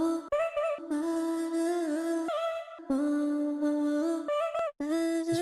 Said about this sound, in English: So I ended up going with the shimmer preset as our starting point. It sounds like this.